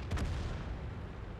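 A tank cannon fires in the World of Tanks game, from an M48 Patton, giving one heavy boom at the start that rumbles and decays over a low, dense game background.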